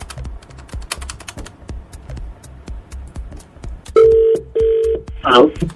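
A busy keyboard clatters steadily, then a telephone rings twice with loud electronic trills, followed by a short burst of dialing tones.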